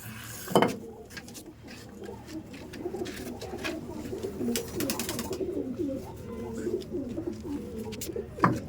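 Several pigeons coo softly and continuously nearby during deworming, low throaty burbling mixed with occasional clatters and bumps of metal pans.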